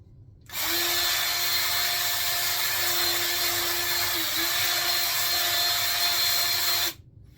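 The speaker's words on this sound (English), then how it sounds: "I'm going to go and I'm going to sand this down again" A power sander works a piece of butternut wood, starting up sharply into a loud, steady high whine that holds for about six seconds before stopping abruptly.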